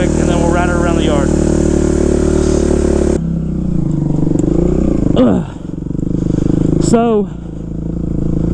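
A Kawasaki KX 250F dirt bike engine runs steadily after a kick start, a loud continuous buzzy drone with brief revs, and someone talks over it throughout.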